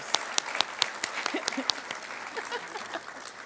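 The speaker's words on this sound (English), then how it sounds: "Let's give her a round of applause for that." Light applause at a NASA Glenn Research Center honor awards ceremony, a handful of distinct, fairly distant claps at first that thin into a soft, scattered patter.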